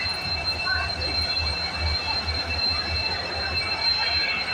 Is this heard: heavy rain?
no